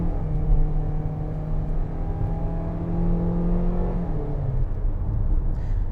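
A 2021 Kia Seltos with its 2-liter port-injected four-cylinder pulls away steadily, a droning engine note and road rumble holding loud and continuous, with pitch sliding down near the end.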